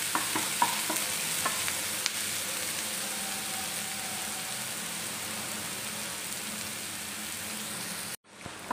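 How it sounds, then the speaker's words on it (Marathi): Finely chopped onion sizzles in a pan with a steady, fairly quiet hiss, a few spatula clicks near the start, then a sudden cut to near silence at the end. "बारीक चिरलेला कांदा, छान परतून घ्यायचं आहे"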